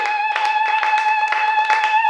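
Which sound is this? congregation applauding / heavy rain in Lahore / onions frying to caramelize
congregation applauding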